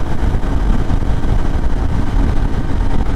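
IBEX 450 motorcycle engine running at about 6,500 RPM on a highway, a loud, steady low drone mixed with wind rush, continuous and close with no speech.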